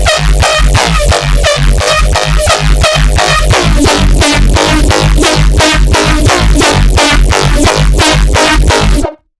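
A heavy neurobass synth patch built in Serum 2, with a screechy third oscillator, pulses in a steady fast rhythm of loud, dense, growling hits for about nine seconds before cutting off abruptly.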